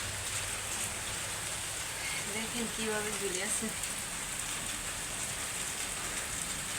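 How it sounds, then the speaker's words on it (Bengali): Heavy rain falls steadily outside under a cloudy sky, a dense continuous hiss of drops on surfaces, with a person speaking quietly over it. "বাইরে কিন্তু প্রচুর বৃষ্টি পড়তেছে"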